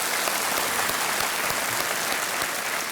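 Studio audience applause on the Hindi quiz show Kaun Banega Crorepati, a dense, steady burst of clapping at full volume throughout, with no voices over it.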